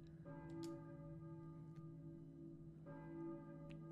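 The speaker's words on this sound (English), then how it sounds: "I hear a church bell, I think," A church bell tolls in the Silent Hill PS1 video game, two sustained rings a few seconds apart, each sounding over a low ambient hum and fading slowly, with no talking.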